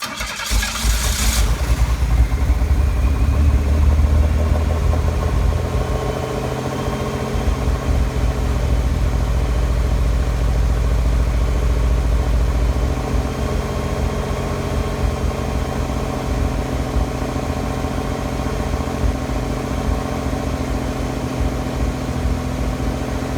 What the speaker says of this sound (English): We're going to start this up so you can hear how well it starts up and how well it idles